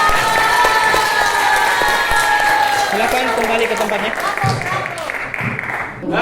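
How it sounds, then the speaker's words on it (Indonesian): A classroom audience applauds a student group, steady clapping and some cheering filling the room while a teacher's voice speaks over it. "kita berikan tepuk tangan untuk kelompok 1"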